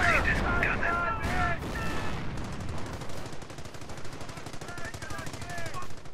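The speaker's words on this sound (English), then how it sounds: "Incoming enemy fire!" Dense gunfire from the Company of Heroes battle game: rapid machine-gun bursts and scattered shots rattle continuously under voices, with a few booming impacts mixed in.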